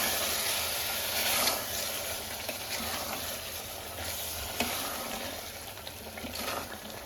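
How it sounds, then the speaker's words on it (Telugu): Chicken sizzling in a hot pan as yogurt, mint and coriander are stirred in for pulao: a steady frying hiss with occasional soft stirring scrapes, close by, with no voices. "పెరుగు వేసిన తర్వాత పుదీనా కొత్తిమీర ఒకసారి అంతా బాగా మిక్స్ చేసుకోవాలి"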